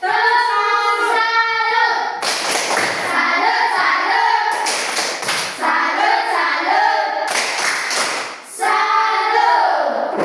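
Fifth-grade primary school class giving a rhythmic praise clap in a classroom, several loud bursts of group clapping in patterned beats, broken up by stretches of a sustained tonal sound.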